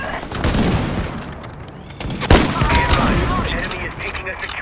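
Gunfire in the online shooter Ironsight: rapid bursts of shots with one sharp, loud report in the middle, continuing under excited talk from a player.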